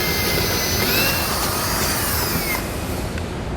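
A power drill whines steadily as it bores a hole out to half an inch in the passenger-side frame rail of a 2016 Hyundai, a continuous close, bright grinding that drops off near the end.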